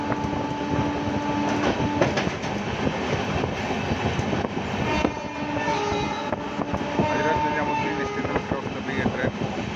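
A train rumbles steadily past at New Delhi railway station, with continuous rolling rail noise and clatter, loud and close throughout, with voices faintly mixed in.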